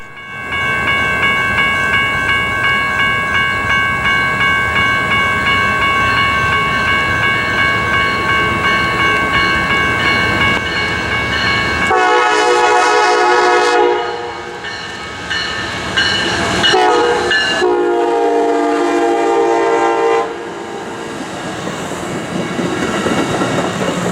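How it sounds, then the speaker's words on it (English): Amtrak Cascades 504 passenger train sounding its K5LA horn near Kent, Washington: a loud, sustained multi-tone horn blast that holds for several seconds, then breaks into shorter blasts, over the steady roar of the passing train. "the sound of a sweet K5LA horn could be heard blowing in the distance"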